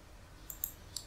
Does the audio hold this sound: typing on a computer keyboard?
yes